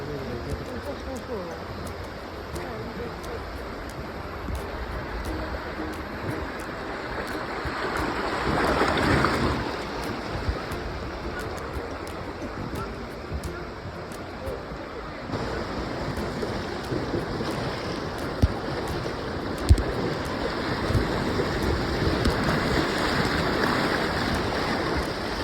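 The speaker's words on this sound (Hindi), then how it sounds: "और बाद में हमने फिर से रिवर राफ्टिंग शुरू कर दिया।" Raft riding the Ayung River in Bali, with a continuous broad rush of moving water and wind buffeting the microphone, swelling midway and steady throughout, with occasional talk underneath.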